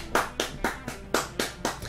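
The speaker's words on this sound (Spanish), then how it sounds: "Me aplaudo yo solo, lamentable." Six sharp hand claps at a steady, unhurried pace, close and alone with no voices.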